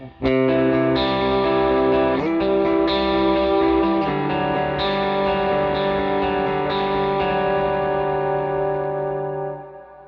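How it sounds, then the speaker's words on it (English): Electric guitar through an HX Stomp stereo patch with EQ, dual dotted-eighth delay, chorus and stereo reverb: sustained chords ring out with shimmering repeats and a long reverberant tail fading at the end, played alone. "an EQ, a dual delay, then I've got a chorus or a vibrato, a dotted eighth, and then a stereo reverb"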